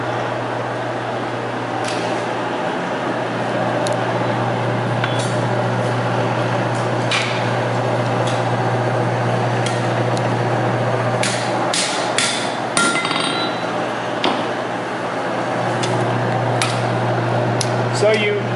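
Steady rapid hammering from a power hammer forging steel, loud and close, over a constant low mechanical hum.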